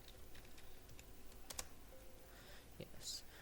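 Quiet, close computer keyboard typing in a series of light clicks and key taps, with a few louder strokes, to run a Windows command.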